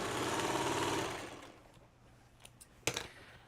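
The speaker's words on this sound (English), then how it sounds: "Then I'm going to sew onto my leader." Sewing machine stitching quilt fabric onto a leader, a fast steady mechanical whir for about a second before stopping, followed by quiet handling clicks and a sharp clack.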